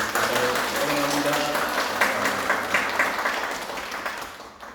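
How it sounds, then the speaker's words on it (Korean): Congregation applause during a church service, a broad, sustained clapping that stays fairly even and fades slightly toward the end, with faint voices mixed underneath. "박수 한번 하실까요?"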